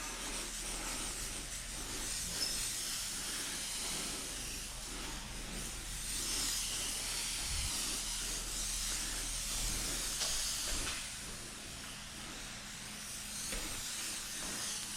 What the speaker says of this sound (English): take my slip solution, spray the hood down